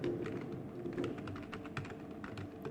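Rapid, uneven clatter of keys on a computer keyboard, close and fairly quiet, with continuous tapping over nearly three seconds and no voices.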